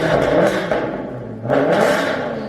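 Maserati GranTurismo S V8 engine with custom megaphone test pipe exhaust and tune, revving loudly and close in two rising-and-falling surges, throaty and raspy with a rumbling undertone.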